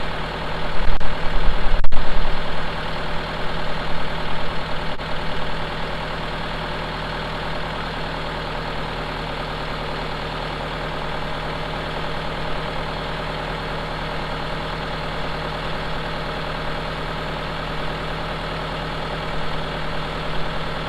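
A tractor engine idles in a steady, low rumbling drone with a constant mechanical throb, holding evenly throughout after a few brief knocks near the start.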